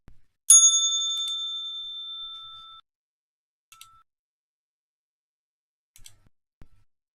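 A single bell struck once, ringing out clear and bright and decaying slowly over about two seconds, followed by a few faint ticks and clicks in near silence.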